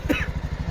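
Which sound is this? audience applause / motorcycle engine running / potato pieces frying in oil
motorcycle engine running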